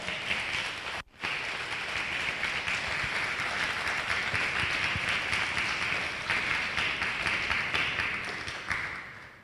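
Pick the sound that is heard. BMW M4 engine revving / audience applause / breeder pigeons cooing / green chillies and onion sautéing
audience applause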